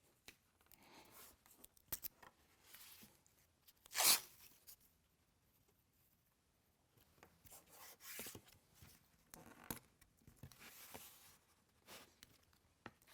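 Blue tape is pulled and pressed onto plywood veneer, with quiet rubbing and smoothing, one sharp tearing rip, and further soft scrapes and strips against a near-silent workshop.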